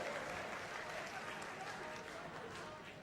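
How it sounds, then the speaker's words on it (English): A crowd at an SKF 100th anniversary celebration in Bengaluru applauds, a broad wash of clapping from a large audience that is fairly distant and even, easing off gradually toward the end. "big, big round of applause, everybody."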